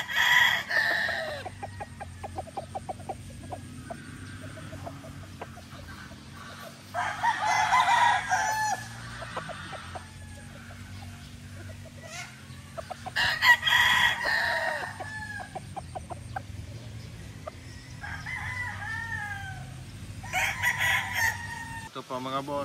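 Several gamefowl roosters of fighting bloodlines, including a Boston Millionaire, crow repeatedly in loud overlapping bursts, with softer clucking between calls at a nearby farm; someone talks intermittently.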